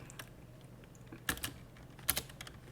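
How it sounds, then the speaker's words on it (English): Short bursts of keystrokes on a computer keyboard, a few quick clustered clicks close and quiet against a low background hum. "so I'll just go ahead and type them in."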